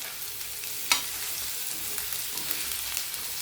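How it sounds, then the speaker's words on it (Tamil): Taro root (seppankilangu) slices fry crispy in a pan, giving a dense, continuous hiss of close sizzling with one brief scrape or clatter early on. "நல்லா முறுன்னு சூப்பராக ஃப்ரை ஆகி வருது"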